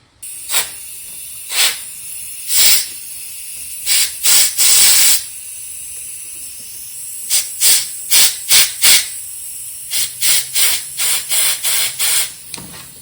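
Compressed air hisses in repeated short blasts into the brake line of a 1969 Camaro Z28, roughly a dozen separate puffs with pauses between, loud and close, no talking.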